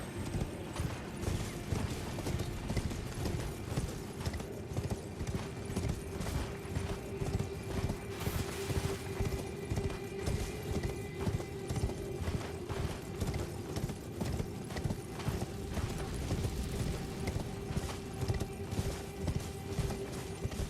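Torrent the spirit horse galloping in Elden Ring, steady rhythmic hoofbeats pounding continuously and faintly over a low droning ambience, with no talk.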